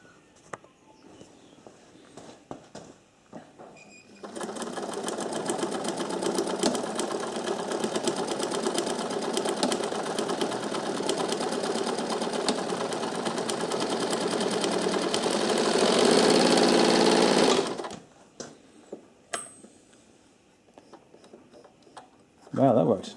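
An old sewing machine with a newly repaired thread tensioner runs in reverse, a loud steady mechanical whir with a fast ticking rhythm lasting about fourteen seconds, with faint talk and handling clicks before and after.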